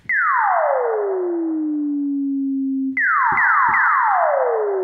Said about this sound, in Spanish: escuchen eso. Con nada más un poquito de reverb.